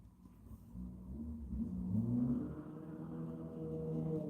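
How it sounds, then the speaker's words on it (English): A car revving somewhere in street traffic outside, a low distant engine rumble that swells and rises in pitch once before settling back into a muffled drone. "Someone seems to think they can get somewhere quicker by revving and making noise."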